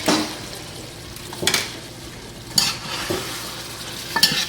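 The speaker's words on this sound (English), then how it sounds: "Go ahead and stir these in." A pan of onions, thyme and Scotch bonnet pepper being stirred, with a steady sizzle and a few louder scraping strokes of the spoon spaced a second or so apart, close up, no talking.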